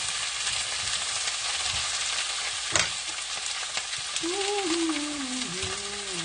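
Zucchini and yellow squash sizzling in a pan on a stovetop, a constant dense hiss with one sharp clink midway and a faint whistling tone near the end.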